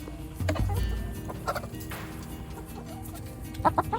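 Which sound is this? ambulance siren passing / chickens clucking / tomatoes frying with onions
chickens clucking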